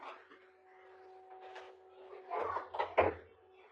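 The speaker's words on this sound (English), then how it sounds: "I might have to close my door" A door thuds shut about halfway through, a low knock followed by a couple of rattling bumps, over a steady background hum with faint household noise.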